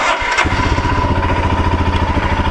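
A Royal Enfield Himalayan adventure motorcycle fires up with a short burst, then settles into a loud, close, steady single-cylinder thump with a regular low pulsing rhythm.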